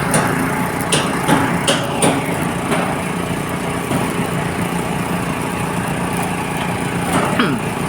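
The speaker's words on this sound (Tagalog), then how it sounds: "itong makina no, makina na yan, makina ng welding machine. Maliit lang na welding machine" Small welding machine running at a construction site laying steel matting, a continuous engine drone with sharp metallic knocks and clatters scattered over it.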